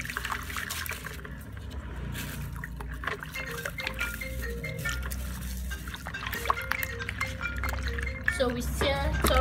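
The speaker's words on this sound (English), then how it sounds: "while I stir thoroughly to dissolve the chemical" Stirring chemical crystals into liquid while making homemade all-purpose liquid soap, a continuous wet sloshing and scraping with small drips and clinks throughout, fairly close.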